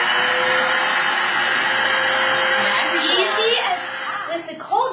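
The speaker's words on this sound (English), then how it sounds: "Simply take your ordinary household vacuum, like so, and just suck them right up!" An ordinary household vacuum cleaner sucks up debris with a steady, close, loud whirring roar that dips slightly toward the end, as voices and a brief chuckle sound underneath.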